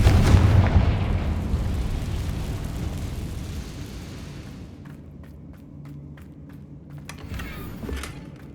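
The Confringo spell blasts in Hogwarts Legacy: a loud, booming explosion at the start that rumbles and slowly fades, followed by scattered debris clicks and faint crackles.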